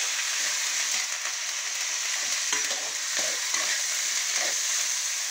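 Shallots, drumsticks, broad beans and brinjal for sambar sautéing in hot oil with mustard seeds and dried chillies, a dense continuous sizzle with faint stirring scrapes, close and loud, no voices.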